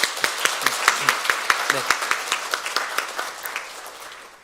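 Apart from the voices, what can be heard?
church congregation applauding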